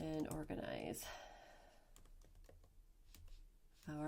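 Short bursts of clicky computer keyboard typing, quiet and close, follow a person's speech and scattered key taps near the end before talking resumes.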